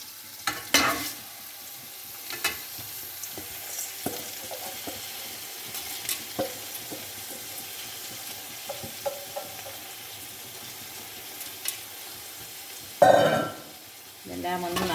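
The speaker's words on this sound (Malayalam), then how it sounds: "ഇനി നമുക്ക് കഴുകി വെള്ളമൊക്കെ ഊറ്റി വെച്ച അരി ഇതിലേക്ക് ഇട്ട് കൊടുക്കാം" Washed, drained rice tipped into a frying pan and stirred while preparing chicken mandi, soft scraping and light sizzling with scattered clinks of a utensil, and a louder clatter near the end.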